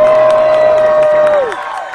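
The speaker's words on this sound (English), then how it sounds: "by a round of applause and screams" Crowd noise at the Starwood 2014 festival, loud and sustained. A strong held tone runs through most of it and then bends downward as the sound tails off near the end.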